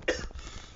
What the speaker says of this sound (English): I am just about to let out a massive cough